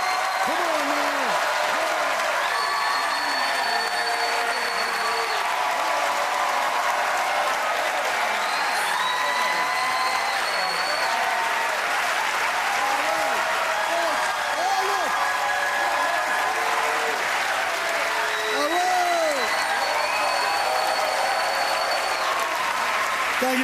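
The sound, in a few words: audience applause, standing ovation for stand-up comedians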